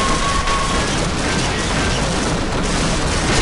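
Tanks firing in the video game Half-Life, a loud, continuous rumble of booming cannon fire and explosive bursts filling the scene without pause.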